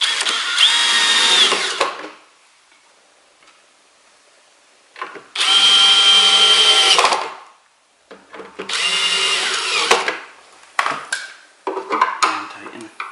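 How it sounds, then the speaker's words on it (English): A power drill drives screws in three separate bursts of about two seconds each, close and loud, with quiet gaps and a few clicks and clatters between. "now we're going to turn down the torque settings on the drill"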